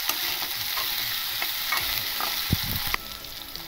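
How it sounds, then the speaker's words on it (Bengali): Potatoes are lightly fried in a pan and stirred, with a close, steady sizzle and a few scraping stirs and knocks near the end. "একটু মোটামুটি করে একটু ভেজে নেবো হালকা করে"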